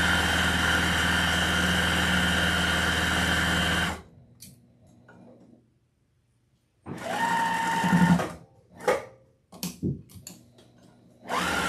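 Sewing machine stitching a donkey hat wreath, a close, loud, steady motor whir that stops, then resumes in short bursts with gaps between, no talk over it.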